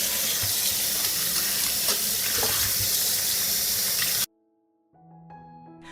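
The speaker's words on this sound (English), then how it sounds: "I will wash the apricots first." Apricots are washed under a running tap, a steady rush of water spraying over fruit for about four seconds. The flow then stops abruptly, leaving brief quiet and then faint tonal background sounds.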